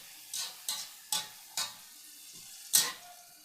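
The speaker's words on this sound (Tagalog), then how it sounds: "Haluin lang natin ulit" Spoon stirring sardine stew in a frying pan, five or six separate scraping strokes at a steady pace with a soft sizzle underneath, close and fairly quiet, no talking.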